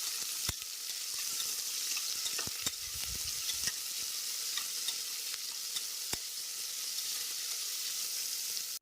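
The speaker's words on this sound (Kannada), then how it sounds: "ಈರುಳ್ಳಿ ಎಣ್ಣೆಯಲ್ಲಿ ಹುರ್ಕೋಬೇಕು." Onions frying in oil for bagara rice give a continuous bright sizzle with sporadic sharp pops and a couple of stirring scrapes, close and steady throughout, with no voices.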